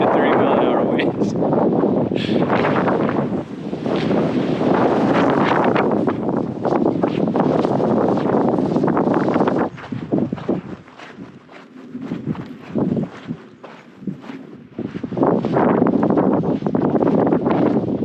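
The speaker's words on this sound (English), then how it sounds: "Walking into 30-mile-an-hour winds." Strong 30-mile-per-hour gusts buffet the microphone on a hike through Joshua Tree National Park during an atmospheric river, a loud, continuous roar that briefly drops then surges back, with someone talking over it.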